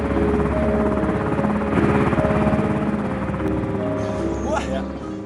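A military evacuation helicopter flies close by in Malaysia, with a loud, steady rotor beat and engine drone throughout. Some faint background sounds appear near the end.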